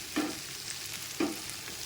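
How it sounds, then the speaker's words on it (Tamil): Whole spices such as cinnamon, cloves, star anise and cardamom sautéing in oil for mutton curry, a soft continuous sizzle with two brief stirring scrapes, quiet and close. "இதையெல்லாம் போட்டு நல்லா வதக்கிக்கலாம்"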